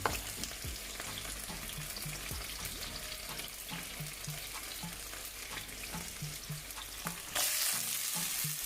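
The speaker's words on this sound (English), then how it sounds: "we're just gonna fry this up and then we're gonna flip it over" Fish fries in a pan for Jamaican brown stewed fish, a constant close sizzle and crackle with occasional stirring clatter, growing brighter and louder toward the end.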